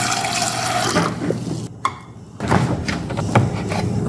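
Water pours from a tap into a pot of canned soup in a home kitchen, a steady close splashing stream that cuts off briefly midway and then resumes.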